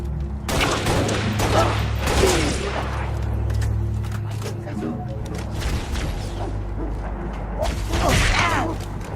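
Dense gunfire and mechanical clatter from combat in Halo Reach, bursts of shots rolling continuously over a low rumble, with a voice speaking briefly amid the fighting.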